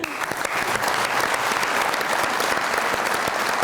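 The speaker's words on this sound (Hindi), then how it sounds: "बहुत सारी तालियां इनके लिए" A studio audience at a Pakistani TV comedy show claps loudly and continuously, a dense, even wash of applause from start to finish.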